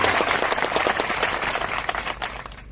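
An audience claps for a former village sarpanch at a crowded local gathering with an MLA, a dense, steady burst of applause that tapers off slightly toward the end, with no talking over it.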